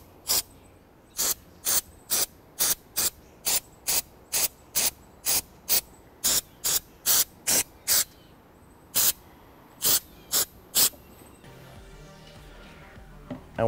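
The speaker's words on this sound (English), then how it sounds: "First thing I'm going to do is compressed air and wipe down this area right here." Compressed air sprays in about twenty short, evenly spaced bursts of sharp hiss while a dirty laptop is cleaned outdoors, close to the microphone. A faint mechanical rattle follows the last bursts.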